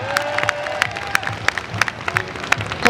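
Audience at a video game art conference applauding, a steady patter of clapping with scattered cheers, a moderately close crowd.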